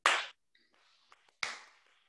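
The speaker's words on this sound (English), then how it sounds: "That was the most awkward delayed clap ever." Two sharp hand claps, the first loud and close, then a faint gap with a few soft knocks before a second clap about a second later, with no talking.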